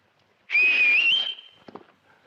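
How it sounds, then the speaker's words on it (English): A single clear whistled note, sustained and gently wavering for under a second, followed by a few faint clicks and soft noises. "But I did learn how to whistle again."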